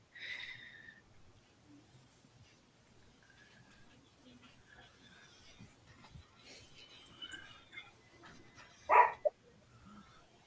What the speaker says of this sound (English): Sorry about the dog barking there a while ago.